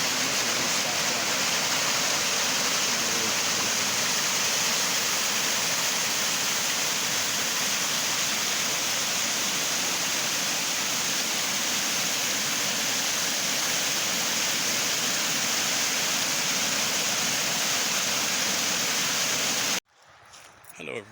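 A river flows in a steady, loud broadband rush of water that continues unbroken for about twenty seconds, then cuts off abruptly near the end.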